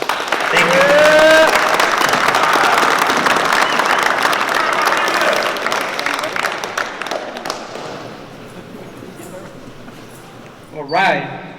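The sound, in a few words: audience applause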